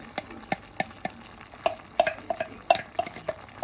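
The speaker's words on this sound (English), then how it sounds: "I'm going to add the blended tomato, garlic and ginger into the dish now" Blended tomato, garlic and ginger hitting a hot, oil-free pan and being stirred for a chicken curry, giving a series of close, sharp clinks and scrapes over a low, steady sizzle, with no talk.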